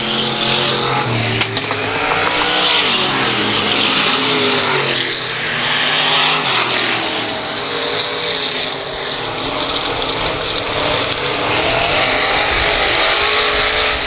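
Vintage race cars on a night track accelerate and roar past, a loud continuous engine drone with shifting pitch and revving throughout.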